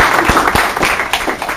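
A short burst of applause at a talk at Middlesex University, a handful of claps ringing out loudly and close, briefly filling the space.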